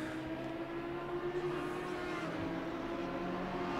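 An Audi race car closing in from behind in a sim racing game at Mount Panorama, a steady droning engine tone that slowly swells as it nears, with no voices over it.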